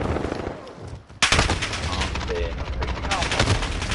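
Call of Duty video game gunfire, a brief lull and then heavy rapid automatic fire, loud and continuous to the end, with faint voices underneath.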